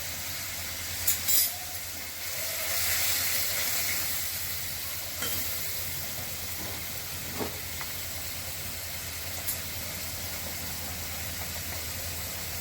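Ground spices — coriander, cumin, turmeric, salt and chili powder — sizzle steadily in a pan for paneer bharta, a soft continuous frying hiss with a few brief clinks and stirring scrapes, and no one speaks.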